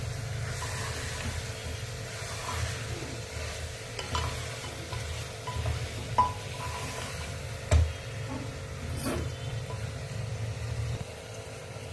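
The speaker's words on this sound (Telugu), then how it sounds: "ఇవన్నీ ఒక 2 మినిట్స్ బాగా ఇలా కలిపేసుకుందాం." Ivy gourd curry fries in oil in a pan and is stirred, giving a steady, continuous sizzle broken by occasional sharp scrapes and clicks of the spoon, with no voices.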